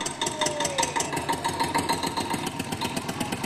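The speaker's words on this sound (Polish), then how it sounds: "A więc jedziemy tym traktorem i jedziemy." A tractor engine runs steadily at close range with an even, pulsing chug throughout the short stretch, with no voices over it.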